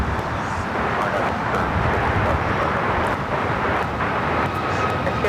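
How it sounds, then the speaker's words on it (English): A Frontier Airbus A321 arriving at LAX from Denver makes a broad, steady jet roar, loud and sustained with slight wind buffeting throughout. "This flight coming in from Denver on this A321."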